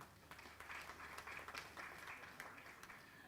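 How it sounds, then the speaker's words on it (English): An audience applauds at a formal event on gender equality as a CEO is called up, a steady patter of many hands clapping for a few seconds at moderate distance, with no talk over it. "Please give her a warm round of applause."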